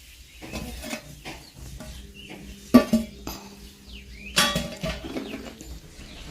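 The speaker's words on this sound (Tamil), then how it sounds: "பீட்ரூட் போட்டு கலரிக்கலாம்" Beetroot is stirred into cooked rice in a pan off the heat, making soft scraping and clinking sounds with a few sharper knocks of the spoon against the pan, fairly faint and unhurried.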